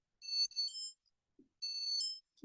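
A medical fall detector alarm triggered by a drop onto a table sounds its base unit with two bursts of high electronic tones, like a ringtone, separated by a short silence and a soft thump.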